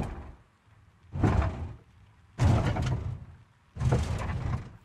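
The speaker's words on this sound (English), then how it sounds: "And then you have one shots for the suspension impacts." Suspension impact one-shots from a vehicle sound plugin: three heavy, separate thumps land about a second apart, each a low body-and-metal knock with a short rattling tail, clean and close with no voices.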